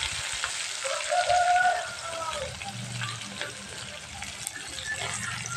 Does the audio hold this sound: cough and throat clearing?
no